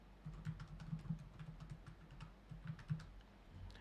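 Soft, steady key clicks from typing text on a computer keyboard, a quiet close patter of individual keystrokes in short uneven bursts over a faint room hum.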